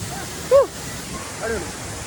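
A waterfall in Tamil Nadu gives a steady, broad rush of falling water close by, with brief voice-like calls rising over it.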